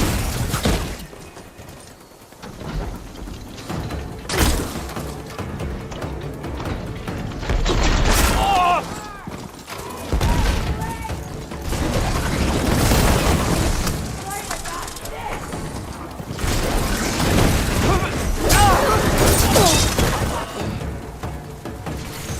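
Machines clank and move amid combat in Horizon Forbidden West, with mechanical ratcheting, shattering hits and booms layered over game music and occasional voices.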